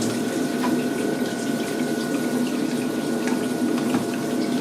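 Continuous rushing flow of water across an aquarium algae filter screen, with a steady pump hum underneath, even and unbroken throughout, close by.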